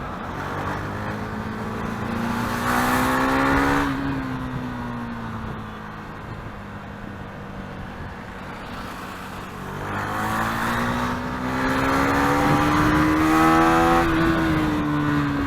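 A 2017 KTM Duke 390 single-cylinder engine revs hard for a wheel spin, its loud, steady drone rising and falling in pitch across two surges, heard up close with no talking.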